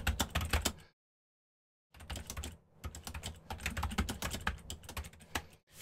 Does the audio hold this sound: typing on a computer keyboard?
yes